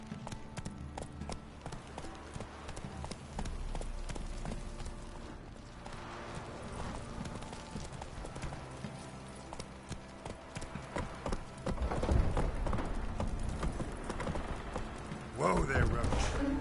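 The horse Roach's hooves clip-clop in a video game, a steady galloping rhythm with creaks and a brief whinny, mixed with game voices and louder bursts near the end.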